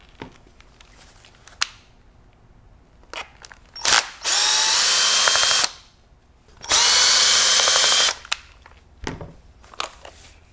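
A power driver backs Phillips head screws out of the rubber recoil pad on a Benelli Ethos semi-auto shotgun: two loud sustained whirring bursts, each about one and a half seconds long, with sharp handling clicks and taps around them.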